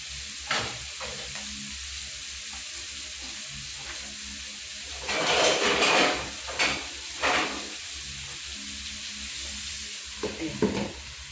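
Onions frying in a pan, with a steady low sizzle and hiss broken by a few louder bursts of stirring and scraping, close by and with no talking.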